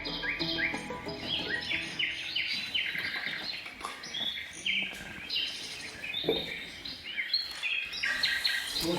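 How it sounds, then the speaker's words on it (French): Recorded birdsong plays in a doctor's waiting room, with bright chirps and tweets from several birds trading calls over a soft background, steady and moderately loud throughout. "dès la salle d'attente, des sons d'oiseaux accueillent les patients"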